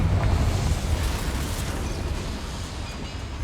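The Confringo fire spell blasts in the Hogwarts Legacy video game, a loud, rumbling explosive burst inside a mine that slowly decays across the span, with no talking.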